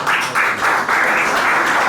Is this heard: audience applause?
yes